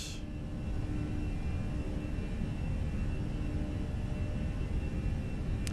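Airbus A320 jet engines spooling to a steady, loud roar during a go-around in Microsoft Flight Simulator, a continuous broadband rumble with no talking.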